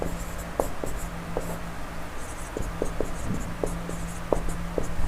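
Pen or chalk writing by hand during a Hindi science lesson on solids, liquids and gases, heard as light scratchy strokes and taps spread through the stretch over a steady low hum, with no talk.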